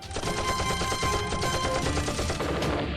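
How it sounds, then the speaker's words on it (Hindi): Medium machine gun fire rattles in a dense, continuous stream of rapid loud shots for the full length, an unbroken battlefield burst with no voices over it. "चीनियों ने पीछे से मीडियम मशीन गनों से गोलियां बरसानी शुरू कर दी"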